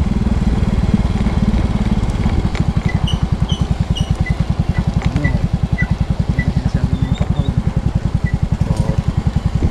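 A small Yamaha Mio motorcycle engine idles steadily, its rapid regular putter loud and close, with a few faint high chirps in the background.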